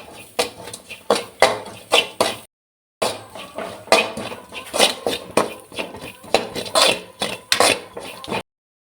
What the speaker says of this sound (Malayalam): ബ്രൗൺ കളർ ആവുന്ന വരെ നമ്മൾ ഇളക്കി കൊടുക്കേണ്ടതാണ്.